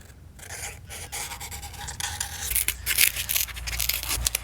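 Cardboard template for a Range Rover camper build being trimmed, close uneven cutting and rasping scrapes with short pauses, growing louder and busier toward the end.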